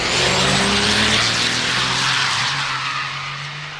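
Drag racing trucks launch hard off the line as the tree drops, a loud roaring rush of engine and tire noise that stays dense and sustained, easing slightly as they pull away down the track.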